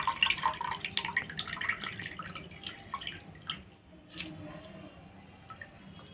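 Soaked spinach is squeezed by hand, sending water dripping and splashing back into a bowl: quiet, close, irregular drips and trickles that thin out and fade toward the end.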